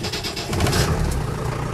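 A 1958 Land Rover Series 2 88-inch soft top with a diesel engine fires up, a short churning start that settles into a rough, steady running sound close by.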